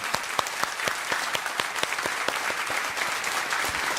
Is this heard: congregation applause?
yes